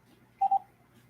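Two quick telephone keypad tones, each a short steady beep close together, sound alone over faint room noise during a phone call.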